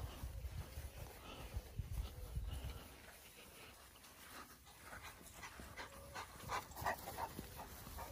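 A dog pants in quick, rough breaths close by while searching a home, mixed with sniffing and shuffling movement against faint background noise.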